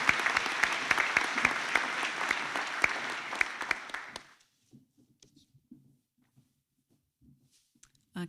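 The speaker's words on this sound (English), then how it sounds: "Please give a round of applause to the graduating class." A graduation-ceremony audience applauds the graduating class with loud, dense clapping for about four seconds. It then stops abruptly, leaving near silence broken by faint scattered rustles and small knocks.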